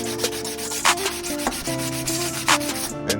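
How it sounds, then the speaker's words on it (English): Rust being buffed off motorcycle parts: a steady rubbing, abrasive scrubbing at close range with a few brief louder strokes, no voices. "Buff off all this rust."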